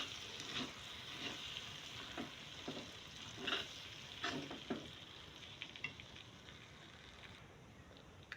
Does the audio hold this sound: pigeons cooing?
no